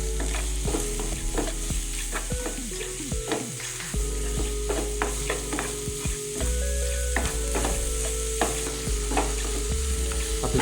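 Vegetable filling for Sri Lankan veg roti stir-fries in a pan, a steady sizzle running throughout with repeated scraping and clinking of the spoon as it is tossed, close and fairly loud with no talking.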